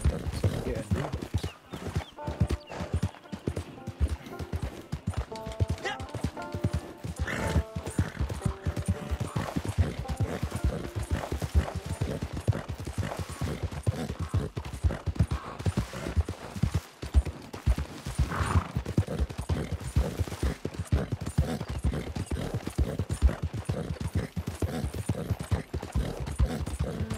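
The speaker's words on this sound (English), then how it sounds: "so we get a new horse." Horse hooves in Red Dead Online clip-clop in a fast, continuous galloping rhythm throughout, close and loud, with occasional brief whinnies and faint background sounds.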